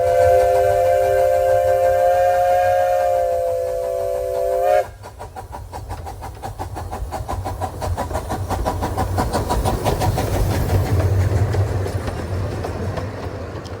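The Billy Jones Wildcat Railroad's steam locomotive No. 2 in Los Gatos, California blows its whistle for several seconds, then the train chugs and clatters along with rhythmic clickety-clack, loud and close.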